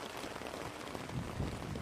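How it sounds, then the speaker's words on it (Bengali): Light drizzle falling outdoors in cold weather makes a soft, steady hiss that stays faint and even throughout, with no voices. "বৃষ্টি পাইছে এই কুচি দেখছেন হ্যাঁ বৃষ্টি দিচ্ছে ঠান্ডা"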